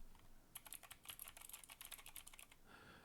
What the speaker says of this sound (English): I'm just trying to do some typing McTyperson.